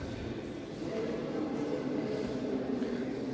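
A tram passes close by in a Swiss city, a steady low rumble of wheels and motor with faint rail hiss, continuous and fairly loud for the whole stretch, with no talking.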